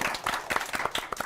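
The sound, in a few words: audience applause welcoming a guest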